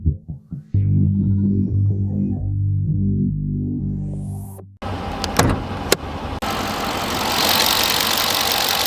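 A 2026 Dodge Durango GT with a 5.7-liter V8 starts with a few cranking pulses, then settles into a deep, steady idle. Sharper mechanical clicks and broadband noise follow near the end.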